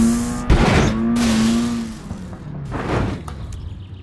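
Car engine in My Summer Car, a Satsuma being driven and crashed: a couple of loud, rising revving bursts with a tonal whine, separated by short pauses, close and without talking.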